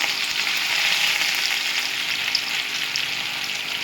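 Rohu fish coated with masala and egg sizzles steadily in hot oil, a dense continuous crackle and hiss that stays close and even throughout, with no talking.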